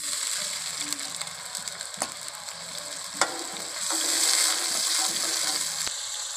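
Water poured into browned onions frying in a pan in a home kitchen, giving a steady loud sizzle with faint scraping clicks and a brief swell of hissing partway through.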